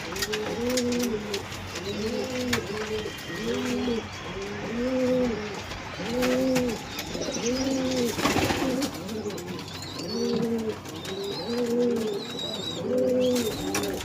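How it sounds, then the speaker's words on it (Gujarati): Pigeons cooing steadily, a returning female pigeon among them, in a series of close, rhythmic low coos, with faint chirps from other birds higher up and no talk. "બધા કબૂતર અંદર આવી ગયા છે"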